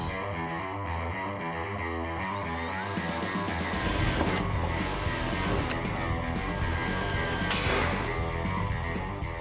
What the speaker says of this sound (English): I'm going to start with an 1/8" pilot hole, followed by a 3/8 bit, large enough to do some plug welding and get this thing in place.